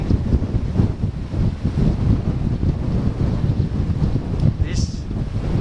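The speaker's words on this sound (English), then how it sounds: "And you can hear the wind." Strong wind buffets the microphone on a mountain trek of the Manaslu route near Philim, a loud continuous rumbling roar with no break throughout.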